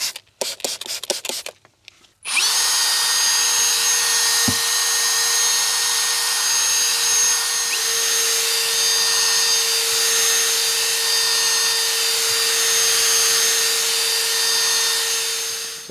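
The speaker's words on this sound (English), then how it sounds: "drill brush attachment, which works great to clean the paddles" A cordless drill fitted with a brush attachment spins steadily while scrubbing the interior of a Mercedes GLE, a loud continuous whine running without a break after a few short clicks at the start.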